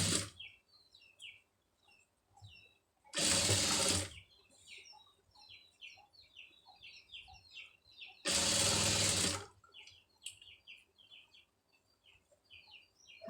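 A sewing machine runs two loud, brief bursts while stitching a rolled piping hem, with birds chirping steadily in the background between the bursts.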